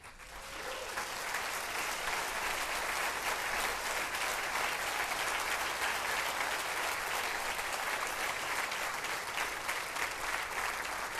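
A church congregation breaks into sustained applause after a prayer, a broad, even roar of many hands clapping that swells in within the first second and holds steady, somewhat distant, for over ten seconds.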